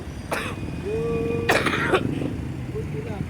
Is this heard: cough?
yes